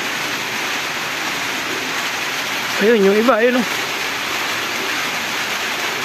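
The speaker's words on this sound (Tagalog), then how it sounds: "lumalakas na uli yung ulan" Heavy rain pounding down and growing stronger, a dense, loud, continuous hiss that fills the clip while someone speaks briefly in the middle.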